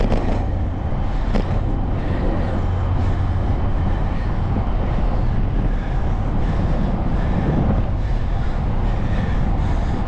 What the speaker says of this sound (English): That wind is, I don't know if you can tell, watch it, but for right here, flat, not up on the bridge, it's cutting.